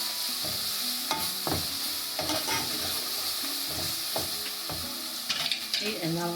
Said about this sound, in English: I'm just going to give this a quick stir.